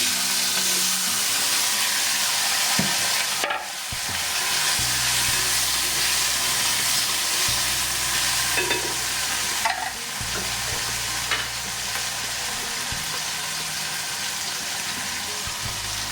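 Diced potatoes with chillies frying in a pan for varai upma, sizzling steadily up close while a spoon scrapes and stirs with occasional clinks, and no one talks.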